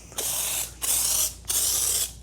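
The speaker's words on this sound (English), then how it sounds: "Take my AK Foam Pro 2, and you can see that nice, spray it in the glass so you can see, look at that nice thick foam." An AK Foam Pro 2 pump sprayer releases thick car-wash foam in three sharp, loud hissing bursts, each about half a second long with short pauses between them, close and with no talk.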